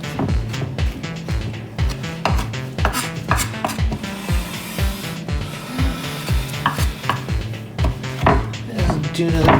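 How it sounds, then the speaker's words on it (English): A knife chops mushrooms rapidly on a cutting board, sharp, close, rhythmic strikes in quick runs with brief pauses. "let's get ready to chop up some mushrooms"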